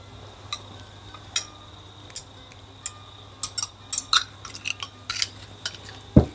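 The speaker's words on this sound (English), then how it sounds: "I'm just going to get it out with the pastry knife." A pastry knife scrapes homemade vegan matcha mozzarella out of a container, giving sparse, light metallic scrapes and clicks at irregular intervals, close by and fairly quiet, with a sharper knock near the end.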